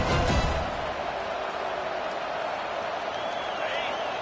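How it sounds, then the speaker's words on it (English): A college football stadium crowd roars during a defensive stand, a loud, steady wash of cheering that swells at the start and then holds as a dense, continuous din throughout. "The roar of the crowd trying to fuel this defense to keep them pinned in their own end"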